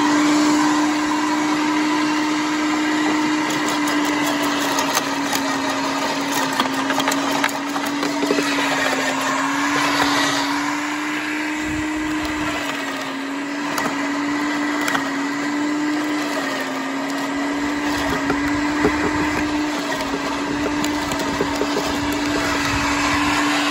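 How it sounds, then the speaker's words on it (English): An electric wood chipper runs on a DeWalt portable power station, producing a loud continuous motor whine and whir with grinding, crackling texture throughout, close and steady with slight dips in load. "All right, so we got the chipper plugged into the Dewalt."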